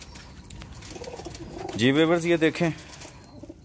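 A prized breeding pair of feather-footed Teddy pigeons coos with a loud, rolling, throaty call close by, rising over a voice speaking briefly before and after.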